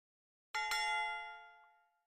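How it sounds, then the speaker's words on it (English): A single bright bell strike opening the market at nine o'clock, struck once with a quick second hit, then ringing out clearly and fading slowly in an otherwise quiet room. "that was the 9 o'clock bell"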